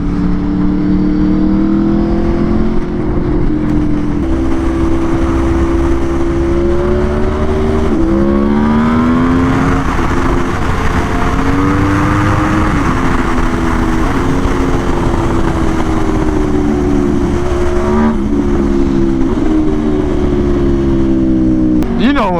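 A new Aprilia RSV4 sport bike on a street ride, its engine droning loud and steady with rising and falling revs through repeated gear changes, the wind rushing, while a rider talks over it.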